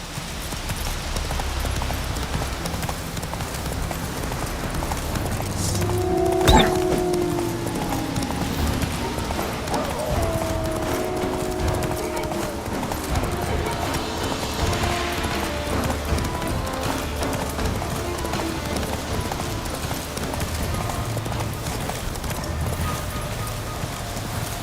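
Geralt's horse Roach trotting in The Witcher 3, a continuous rhythmic clip-clop of hooves over a busy game soundscape with a brief sharp knock partway through.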